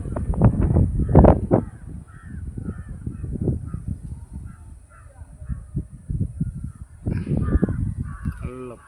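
Crows caw repeatedly in the evening over farm fields near Senkottai, harsh calls in irregular bursts with other faint bird calls, amid low rumbling wind or background noise.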